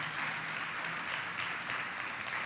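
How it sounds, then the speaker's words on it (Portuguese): A congregation applauds during a Portuguese-language family worship service, a steady, even wash of clapping from a large room, moderately soft and continuous throughout with no voices on top. "Você pode aplaudir Ele aí de coração"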